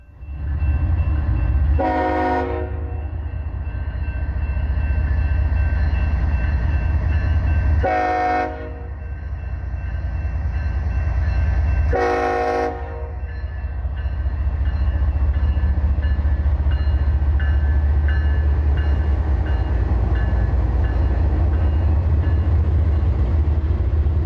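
CSX freight train 437 rolls by on the W&A sub with a steady heavy rumble throughout, broken by three loud horn blasts early on, the engine and wheel noise building steadily afterward.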